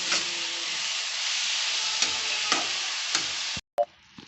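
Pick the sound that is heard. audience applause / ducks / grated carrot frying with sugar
grated carrot frying with sugar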